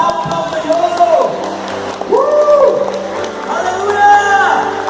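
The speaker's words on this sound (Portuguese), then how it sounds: "Bata palmas para o Senhor." A church congregation claps for the Lord amid loud crowd noise, with sustained whooping and cheering voices rising and falling over the clapping.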